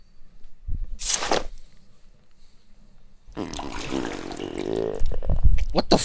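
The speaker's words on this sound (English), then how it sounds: "That was a weird ass sound effect. He just puked." A character in the video game Angels of Death vomits in a wet, gurgling splash, a short burst followed by a longer sloppy spattering stream, loud and up close.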